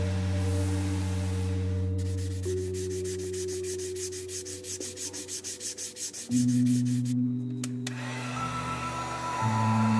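A belt sander shapes an EVA foam axe. Its steady whirring motor hums under a rough abrasive rasp, with pitch shifts as pressure on the foam changes midway. It sounds close and loud, and no one speaks.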